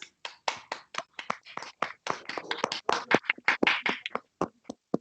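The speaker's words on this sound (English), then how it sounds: "So can we have a big round of applause, audience, for all these winners?" A school audience claps for the winners of a sun-themed competition, a choppy run of separate clap bursts from a modest crowd, starting and stopping with short silent gaps between them.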